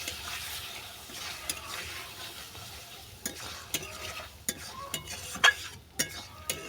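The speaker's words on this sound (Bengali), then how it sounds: "সরষে বাটাটা ভালো করে মিশিয়ে নিলাম" Mustard paste being stirred into prawns and taro in a frying pan: a low sizzle under scraping strokes, then a run of sharp spoon knocks against the pan toward the end, close with no talk.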